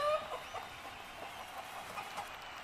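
A rooster clucks softly in short, uneven bursts, fairly faint against a quiet background with no talking.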